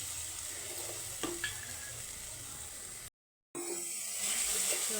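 Spiced masala frying in oil in a pan for a cauliflower and potato curry, a steady broadband sizzle with a few stirring scrapes, briefly cut out midway before returning at similar level.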